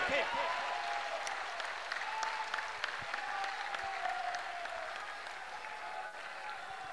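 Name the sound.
audience applause for a young speaker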